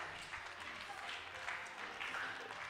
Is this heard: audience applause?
yes